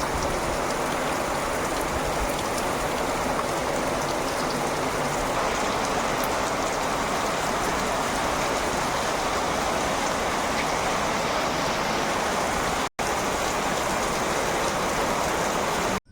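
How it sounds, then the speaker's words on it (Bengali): Heavy rain pours down in a steady, dense hiss with no letup, broken only by a couple of brief cuts, in the Sundarbans. "ঠোল ধারে বৃষ্টি হচ্ছে"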